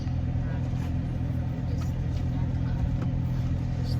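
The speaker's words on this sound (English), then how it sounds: "Just looking at cars." Cars drive past outside in a steady low traffic rumble, moderately close, with a voice talking over the passing vehicles.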